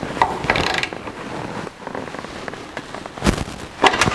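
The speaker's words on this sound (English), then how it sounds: "What we're doing here is tightening the bolts that hold the carrier bearing to" Bolts holding the carrier bearing of a two-piece drive shaft to a 1964 C10 pickup chassis are tightened with a ratchet, heard as close, scattered bursts of rapid clicking, with no voices.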